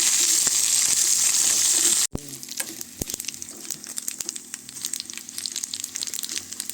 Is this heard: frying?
yes